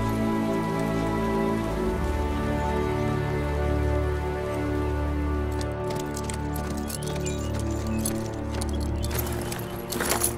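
Rain falls steadily on a Gettysburg battlefield in a Pickett's Charge film, a soft continuous patter beneath sustained low orchestral music, with brief bursts of sharper drops near the end.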